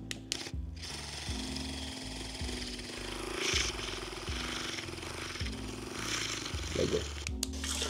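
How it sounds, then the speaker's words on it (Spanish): A small electric coffee frother whisks with a close, buzzing motor hum that stays steady, its pitch shifting slightly and stopping briefly a couple of times, with faint room noise behind it. "Voy a hacer la SMR con el batidor de café, escucha."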